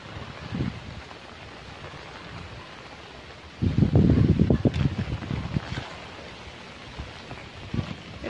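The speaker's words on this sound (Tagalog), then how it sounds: "Pero ang lakas ng hangin niya talaga." Strong wind from a super typhoon buffets the microphone with rain, a steady rushing roar that surges into a heavy, louder gust midway before easing.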